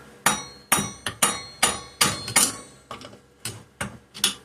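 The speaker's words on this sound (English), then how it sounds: "I am going to get ball peen and just, I'm not going to hit real hard. I'm going to just kind of gently pry and tap." Ball peen hammer gently tapping on a Homelite XL12 chainsaw, about a dozen sharp metallic knocks in an uneven rhythm, close and clear with no talking.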